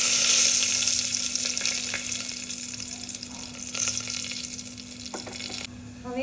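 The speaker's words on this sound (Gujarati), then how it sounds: "તો હવે હું અહીંયા લાલ મરચું નાખી દઈશ અને મીઠો લીમડો" Red chili and curry leaves sizzle and crackle steadily in hot oil for masala khichdi, a loud frying hiss close by that fades slightly and spits in short bursts, with no talk.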